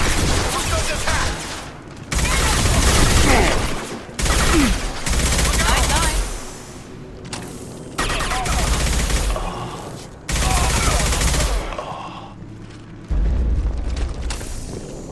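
Gunfire in a firefight in the video game Mass Effect 2, loud bursts of shooting and booming impacts coming in several blocks separated by brief pauses, with some voices mixed in.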